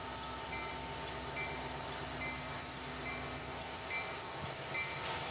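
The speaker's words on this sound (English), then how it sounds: "With a train that's about 5 blocks long." A long freight train backs up slowly, giving a steady low rumble with faint rhythmic clanks and a squeak near the end, heard from a moderate distance with no talk.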